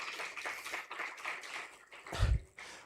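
Audience at an enterprise development programme launch applauds itself, a steady wash of moderate clapping from a crowd, with one louder thump partway through.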